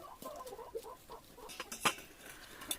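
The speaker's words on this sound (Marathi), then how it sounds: "ह्या आहेत आमच्या कोंबड्या" Free-range village hens cluck softly in a backyard, with a few short, faint calls scattered over quiet surroundings.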